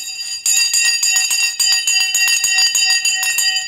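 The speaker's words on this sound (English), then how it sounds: "The bell has now gone." Stock market opening bell ringing at 8:30 in the morning, a loud sustained metallic ringing with rapid repeated strikes lasting several seconds on its own.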